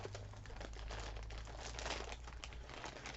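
Plastic bag packaging is ripped open by hand, giving a continuous close, loud crinkling and tearing rustle.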